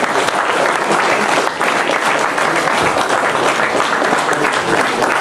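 Dense, steady applause from a conference audience at a panel on Brittany's place in Europe, a continuous wash of many hands clapping at close range that holds loud for about five seconds with a brief dip near the middle.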